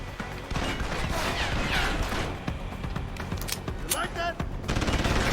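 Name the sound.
gunfire in video game Deus Ex: Human Revolution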